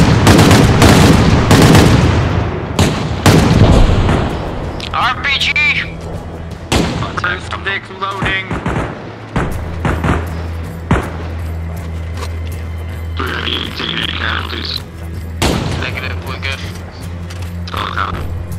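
Gunfire in the military shooter Arma Reforger, played as a milsim infantry operation: loud, sharp shots and bursts crack out near and far across the scene, with faint chatter and radio voices between the volleys.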